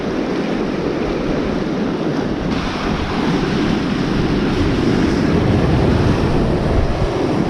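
Choppy sea waves break and churn continuously along a shore during bass lure fishing, with steady wind buffeting the microphone throughout and no voices.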